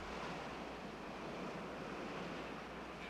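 Ocean waves roll toward the shore in a steady, dense wash of surf that stays loud and unbroken throughout, with a windy hiss mixed in and no voices.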